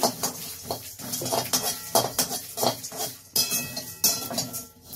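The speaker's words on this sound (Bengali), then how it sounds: "গোটা জিরেটা দিয়ে ভালো করে নাড়াচাড়া করে একটুখানি ভাজিয়ে নেব" Whole cumin fried in a pan, stirred with a utensil scraping and clinking against the metal in quick irregular strokes, close and fairly loud.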